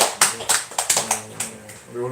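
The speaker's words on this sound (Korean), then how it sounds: "우리 함께 서로 옆에 계신 분 응원하며 우리 격려하며 우리 축복의 박수 한번 인사하실까요?" A church congregation applauding during a Sunday worship welcome, a run of short irregular claps and taps spread over two seconds, fairly close, with a few murmured voices underneath.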